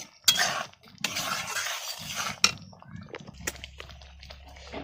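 Spoon stirring fried okra into thick dal in a pan, heard as a few scraping, clattering bursts against the metal with brief pauses between them. No one speaks.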